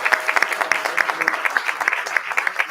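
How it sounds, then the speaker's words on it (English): Applause from a crowd at a town board meeting honoring student cheer coaches, a steady patter of many hands clapping at moderate distance, with a faint voice in the background. "A round of applause."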